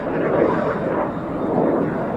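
Jet Provost and Strikemaster jet trainers flying a display at an airshow, heard as a loud, steady broadband engine roar that swells and eases slightly as they pass, with no clear talk over it.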